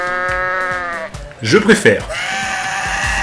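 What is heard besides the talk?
goat bleating in the video game Goat Simulator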